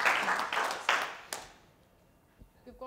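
Brief applause for the first participant at a fellowship pitch event, a few bursts of clapping close by that quickly fade into near silence, with faint noises afterward.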